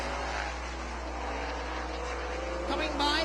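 Race cars roar around an oval track during a heat race, engines droning steadily at a distance with a louder pass near the end, under crowd and track ambience.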